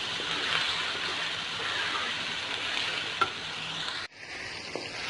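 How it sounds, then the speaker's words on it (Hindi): Minced keema bhuna in oil for dhaba-style aloo keema, a steady dense sizzle and frying hiss with soft stirring scrapes, one small clank, then the sizzle abruptly drops lower near the end. "ये देखें ऑयल भी सेपरेट हो गया, मैंने इसको बहुत ही अच्छी तरीके से भून लिया"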